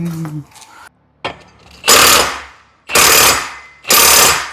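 Three loud, separate bursts from an impact wrench driving a nut onto a car's front plate on a Smart car, each roughly a second long with short gaps between. Some faint handling noise comes first.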